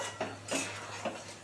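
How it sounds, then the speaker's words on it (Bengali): Gentle clinks and scrapes of a spoon stirring a thor, pea and prawn dal in a metal pot, three or four soft knocks spaced unevenly, close and fairly quiet. "2 মিনিট হয়ে গেছে, একটু দেখি নেড়ে চেড়ে।"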